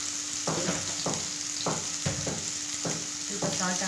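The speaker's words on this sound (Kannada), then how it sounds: "ಚೆನ್ನಾಗಿ ಸೌಂಡ್ ಬರ್ತಿದೆ ಬೇಜ ಮಾಡ್ಕೊಂಡು ಫ್ರೈ ಮಾಡ್ಕೊಳ್ಳೋಣ" Tamarind gojju sizzles and crackles steadily as it fries in a pan, with periodic stirring scrapes every half second or so and a faint voice in the background.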